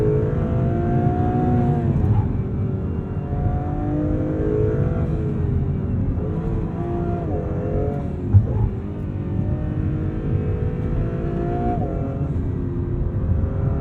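An Acura NSX Type S sports car is driven hard around a corner, its engine holding a loud, steady howl with rising and falling revs, heard close from inside the cabin with no talk.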